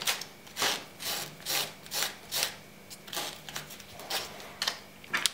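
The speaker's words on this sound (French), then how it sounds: "Donc d'abord je frotte un peu pour que la colle adhère bien." Worn handbrake lever surface being rubbed by hand to roughen it before gluing, a dry scratchy rasping in about ten steady back-and-forth strokes, close and fairly quiet with no voices.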